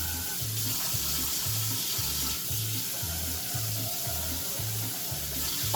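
Tap water pours steadily into a big pot being filled for boiling, a constant close rushing splash with a faint rhythmic low hum underneath and no talk.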